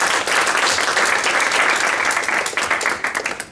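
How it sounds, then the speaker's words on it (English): Audience applause at a cybersecurity workshop in Brussels after a presentation, a thick burst of clapping that stays strong, then thins into scattered claps near the end. "Please, a round of applause for Joran."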